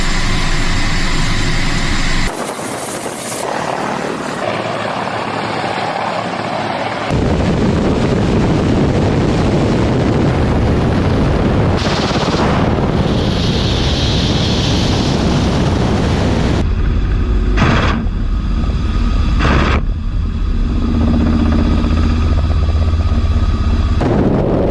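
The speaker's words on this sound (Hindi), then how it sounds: "रशिया का KA-52 अटैक हेलीकॉप्टर यूक्रेन के कई हिस्सों पर हमला करते हुए रिकॉर्ड हुआ है" A Russian Ka-52 attack helicopter attacking in Ukraine produces a loud, continuous roar of rotor and engine, heavily buffeted by wind noise, with abrupt shifts in tone and intensity throughout.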